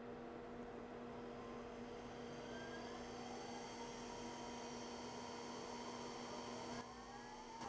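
Servo motors on a Siemens Simovert MasterDrive test stand give a steady electric whine with a strong constant hum, their pitch slowly gliding as the speed changes, alone and fairly quiet.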